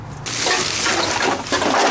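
Leftover Pepsi spilling from discarded bottles during bottle picking, a loud close splashing pour of liquid that starts abruptly and keeps gushing with a brief dip in the middle.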